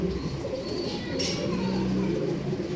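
Pigeons offered for sale in a Bangalore shop coo steadily, low repeated throaty calls close by over a constant murmur of background noise, with a few faint chirps above.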